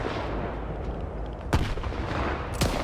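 Two grenade explosions in a video game, sharp, loud blasts about a second apart, standing out from a steady rumbling background of game noise.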